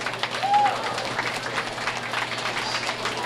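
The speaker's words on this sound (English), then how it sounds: "Give this little girl a nice round of applause." Audience clapping at a county fair beef show in an arena, a moderate, steady round of applause with crowd noise and a faint background hum, lasting a few seconds.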